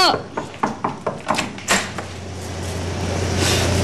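A door in a home is knocked on repeatedly in a quick rhythm, then opened with a clunk, followed by a low steady hum and rising background noise.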